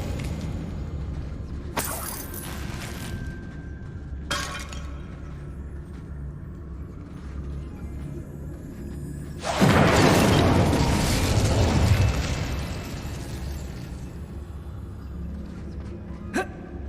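An Incendio fire spell cast in the Hogwarts Legacy video game, a sudden roaring burst of flame that flares loudly for a couple of seconds among sharp magical zaps and clicks.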